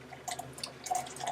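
Water drips from a Waterdrop K6 RO hot water filter, several small, close drips and splashes into a basin over a quiet background, with no talking.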